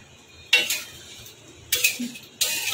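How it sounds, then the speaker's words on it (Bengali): Curry of gram dal fritters with potato and pointed gourd is stirred in a pan after ghee is added, three distinct scraping clatters of a spoon against metal, close and fairly loud with quiet between. "ঘিটা দেওয়ার পরেও হালকা করে নেড়ে দেবো।"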